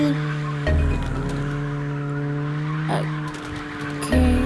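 A car drifts in a racing video game: a loud, droning engine note with squealing, skidding tires that flare in short bursts.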